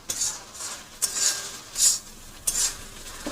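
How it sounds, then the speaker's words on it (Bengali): Spice paste being sautéed in a pan while cooking a snakehead (shol) fish curry, heard as quiet repeated scraping strokes of a spatula, about three distinct stirring bursts with soft frying hiss between, no talk. "এবার ভালো করে কষিয়ে নেব"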